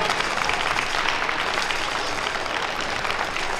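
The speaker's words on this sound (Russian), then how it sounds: "Аплодисменты." A crowd applauds at a ballroom dance competition in Minsk, a dense, continuous roar of clapping from many hands that holds steady and loud throughout.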